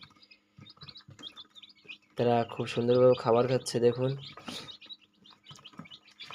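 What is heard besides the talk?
quail chicks chirping in brooder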